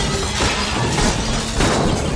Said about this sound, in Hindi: फिर चलो चलो शीशा तोड़ते।